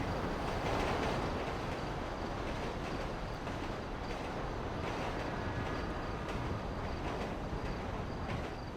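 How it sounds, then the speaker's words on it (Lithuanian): Train passing in a roleplay video game, a loud continuous rumble and wheel roar filling the scene at steady intensity. "palauk, traukinys pravažiuos, bus geriau girdėti"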